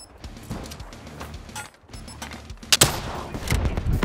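Rocket launcher fire in the shooter Black Ops 3 on Team Fortress 2 maps, with a sharp loud blast near the middle amid scattered gunfire and mechanical clatter.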